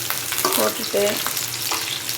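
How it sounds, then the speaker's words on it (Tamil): Curry leaves dropped into hot oil with sautéing onions sizzle and crackle steadily in a pan, close and continuous. Someone speaks briefly over the frying. "நல்லா வதங்கட்டும். இப்போ இந்த கருவேப்பிலையும் போட்டுக்கோங்கம்மா."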